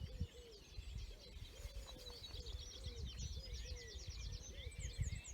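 A wood pigeon coos at dawn amid a busy spring dawn chorus, its low repeated phrases sitting beneath dense overlapping birdsong and chirps at moderate distance.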